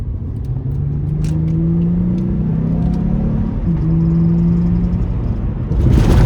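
An Acura TL Type-S with a 3.2-litre V6 VTEC engine drones steadily while driving, a loud continuous engine hum that shifts pitch partway through and swells again near the end.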